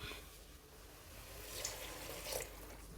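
A soft, steady pour of water runs over rice, moong dal and field beans for a festival khichdi, with faint splashing swells and no voices.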